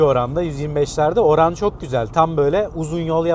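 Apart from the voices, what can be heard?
None of the usual background noises is heard.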